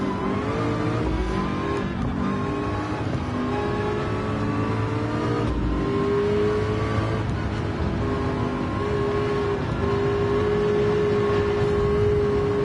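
Race cars in the 24 Hours of Le Mans sim played in PSVR2, a loud continuous engine whine with rising and falling harmonic pitches through gear changes, close and sustained with no talking.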